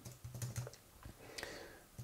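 Computer keyboard keys are pressed in short irregular bursts while an image is being edited, the clicks close and quiet, with a few sharper taps clustered in the first second.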